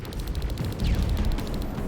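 Gunfire in the Terminator Resistance video game crackles in rapid repeated bursts over a dense, rumbling battle mix with music, steady and loud throughout.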